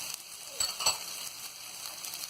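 Ginger paste fries in a pan for baingan bharta, a soft, close sizzle with a couple of brief spits and stirring scrapes, fairly quiet and without talking.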